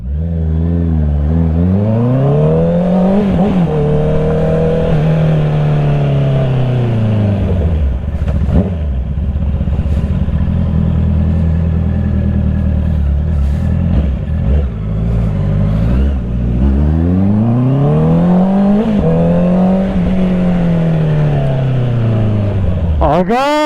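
Motorcycle fitted with a new Two Brothers aftermarket exhaust, revving hard in loud, close rising and falling sweeps that repeat twice, with a rough idle rumble in between and people talking over it.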